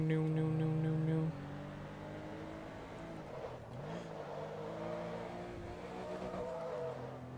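A Porsche Carrera RS sports car racing its last lap in Forza Motorsport 2, the engine droning and shifting pitch as it revs, under faint talk, with a steady tonal hum in the opening second.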